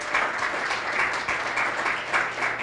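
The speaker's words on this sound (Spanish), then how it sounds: "Dele un aplauso al Señor Jesucristo." Worshippers at an evangelical church service applaud together in a continuous, fairly loud burst of clapping that holds evenly throughout, with no voices standing out.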